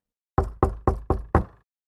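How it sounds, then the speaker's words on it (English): Five sharp knocks on a door in an even, quick rhythm, close and loud, with silence before and after. "He stopped at the first big house and knocked on the door."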